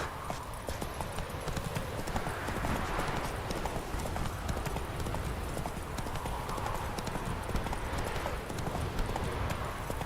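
Horse hooves galloping in Witcher 3, a steady, fast clip-clop rhythm running continuously at moderate level beneath game ambience.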